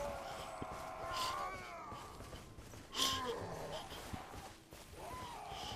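Harsh, strained cries of goats in Elden Ring rise and fall repeatedly, layered over a busy, murmuring background with occasional louder bursts.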